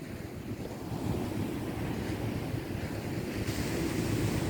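Steady roar of sea waves washing in with wind buffeting the microphone, continuous and fairly loud throughout, no voices.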